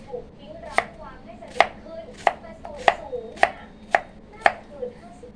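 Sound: peeling and cutting winter melon

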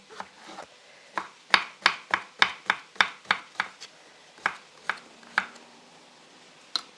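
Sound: dicing zucchini into cubes

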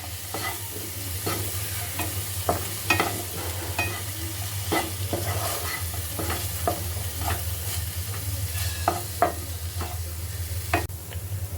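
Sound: stirring masala mixture in a pan

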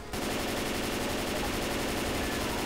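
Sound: automatic gunfire in Left 4 Dead 2 video game

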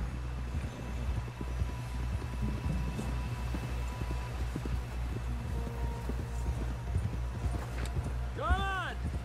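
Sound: horse hooves in a video game

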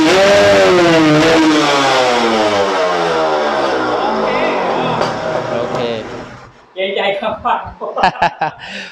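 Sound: Kawasaki Serpico motorcycle with side exhaust pipe revving

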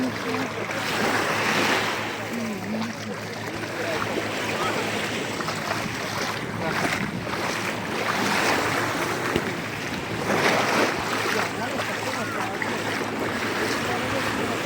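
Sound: calm sea waves at an Italian beach

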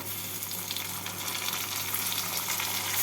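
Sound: tomato and onion being stirred and fried in a pan

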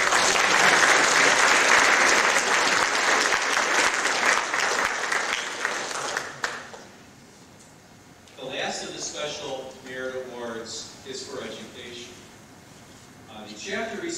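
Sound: audience applause at awards banquet

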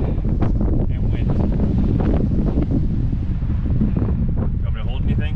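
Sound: wind blowing in Canyonlands National Park, Utah

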